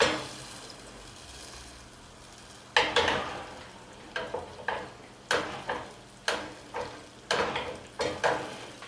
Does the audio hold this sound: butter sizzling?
yes